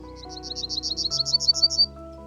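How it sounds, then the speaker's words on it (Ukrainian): A yellowhammer sings one short rhythmic trill, a quick series of about a dozen bright repeated notes that swell in loudness before stopping, set over low background music with no talk. "Вівсянка одна з наймелодійніших пташок. Її спів нагадує короткі ритмічні трелі, які легко впізнати."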